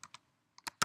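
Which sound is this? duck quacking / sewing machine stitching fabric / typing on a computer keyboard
typing on a computer keyboard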